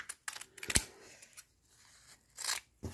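Scissors snipping through freezer paper and fabric while preparing quilt blocks, a few separate crisp cuts and rustles close by, with pauses between them.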